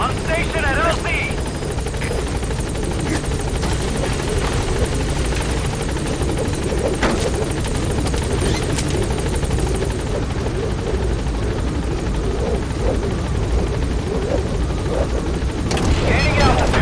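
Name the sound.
helicopter arriving at landing zone, Metal Gear Solid 5 video game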